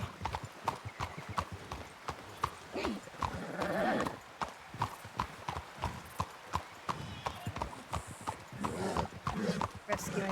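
Steady clip-clop of horse hooves on a hard surface in a medieval roleplay game, near and rhythmic, with people talking over it and a brief whinny.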